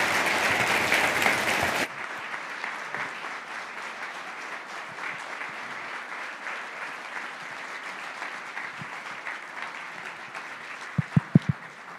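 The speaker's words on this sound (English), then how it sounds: "Everyone should give him a round of applause for taking the time." An audience gives a round of applause for Governor Joe Lombardo at a talk event, loud clapping at first, then settling into a long, softer sustained applause, with a few sharp thumps near the end.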